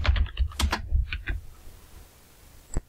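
Someone types a date on a computer keyboard in a quick burst of close, crisp keystrokes, roughly a dozen clicks in about a second and a half. After a pause, a single keypress follows on its own.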